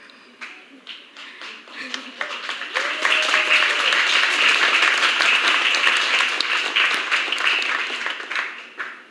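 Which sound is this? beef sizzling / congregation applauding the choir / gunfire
congregation applauding the choir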